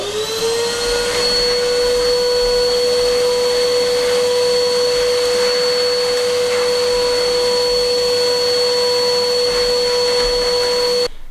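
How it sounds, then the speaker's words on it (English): A vacuum cleaner hoovers dust off a stone wall during a farmhouse restoration, a loud, steady motor drone with a high whine that runs unbroken, then cuts off at the very end. "I'm just going to try and hoover it now"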